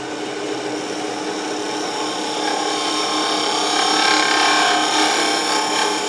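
A continuous high, hissing scrape of a freshly sharpened wood-turning tool cutting lightly into wood on a turning lathe, steady and close, gradually growing slightly brighter.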